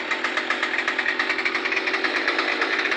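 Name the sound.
Murray M2510 string trimmer cold start with Hipa carburetor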